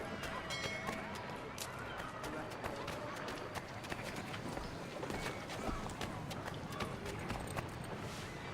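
Quick, steady clip-clop of horses' hooves at a brisk pace in Assassin's Creed 3, sharp rhythmic strikes over a soft background murmur, with speech faintly present.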